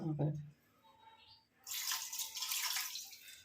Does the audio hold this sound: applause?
no